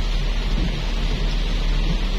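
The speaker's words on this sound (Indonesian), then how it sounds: "cukup lebat ya sebenarnya hujan ini teman-teman" Heavy morning rain pours steadily in Manado, Indonesia, a dense, constant roar of falling water with no voices.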